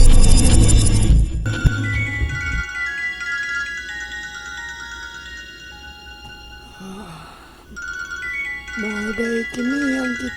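A cellphone ringtone plays a bright, repeating electronic melody through most of the clip, fairly faint under a loud opening noise. Voices and breathy gasps join near the end.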